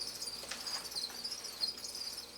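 Crickets in breeding containers chirp faintly, a thin, high, repeated trill over near silence.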